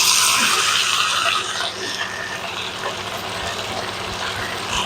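Tomato sauce pours and glugs steadily from a bottle into a pot, a wet gushing sound that eases off after a moment but keeps trickling.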